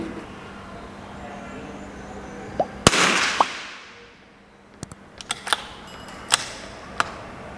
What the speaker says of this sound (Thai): กับกระสุน RWS นะครับยิงจำนวน 5 นัดครับมาลองดูเลยครับ